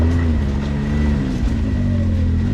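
A Can-Am Maverick X3 Turbo side-by-side pushes along an extreme wooded trail, its engine holding a steady, close, droning hum with slight swells in revs throughout.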